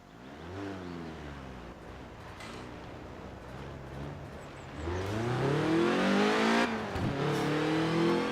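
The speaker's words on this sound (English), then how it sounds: "Oh, it sounds exactly the same as the Lotus Elise does in this game." In Forza Horizon 4, a car with an engine note like the Lotus Elise revs repeatedly on a driving road. Its pitch sweeps up and down and grows louder during a hard acceleration near the end.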